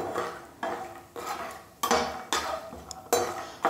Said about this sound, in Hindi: और अब हम इसमें ये बादाम फ्राई करेंगे